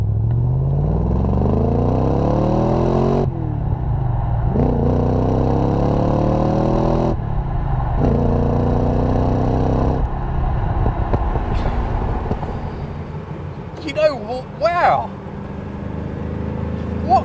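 An Aston Martin DBS V8 revving through repeated pulls, each rising engine sweep cut off by a gear change, loud and close, then settling to a rumbling idle with brief sharper sounds near the end.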